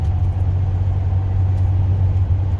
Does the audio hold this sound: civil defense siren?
no